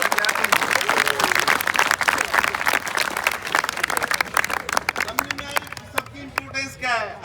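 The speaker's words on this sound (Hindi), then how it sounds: "तालियां कमजोर है मेरे बच्चे के।" An audience claps in a dense, crackling burst of applause that thins out toward the end, while a voice talks over it.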